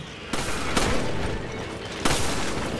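Gunfire in the video game Resident Evil 5, with sharp shots at about 0.3, 0.8 and 2.0 seconds over a dense, noisy game backdrop.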